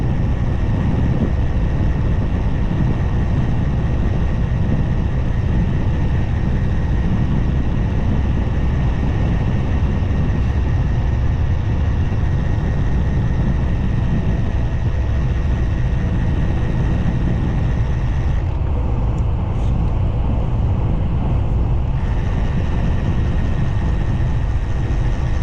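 Steady wind rush and low road rumble from a ride on a Stromer ST5 Pinion e-bike commuter, constant and fairly loud throughout, with a brief dip in the higher hiss near the end and no talking.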